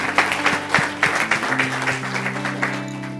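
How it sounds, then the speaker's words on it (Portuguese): Church congregation applauding for Jesus during a service: dense, steady clapping from many hands with sustained instrumental tones underneath, loud and continuous throughout. "Você pode dar um aplauso forte para o Senhor Jesus."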